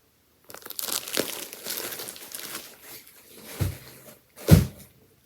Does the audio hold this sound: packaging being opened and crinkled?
yes